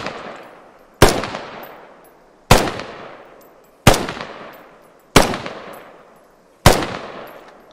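Six heavy marksman rifle shots ring out in the video game Squad, each a sharp loud crack with a long decaying tail, spaced about a second and a half apart with no talk.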